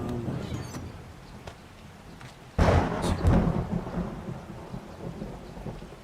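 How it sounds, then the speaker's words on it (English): Rain falling on a tarp in the game 7 Days to Die, a soft steady patter until a sudden loud thunderclap crashes in and rumbles on under continuing rain. "I can see the rain falling on the tarp"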